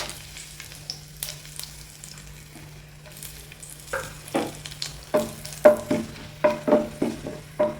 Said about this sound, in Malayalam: നമുക്ക് ഇതേ എണ്ണയിലേക്ക് തന്നെ എടുത്തു വെച്ചിരിക്കുന്ന പട്ട, ഗ്രാമ്പൂ, ഏലക്ക ഇതൊക്കെ ഇട്ട് കൊടുക്കാം.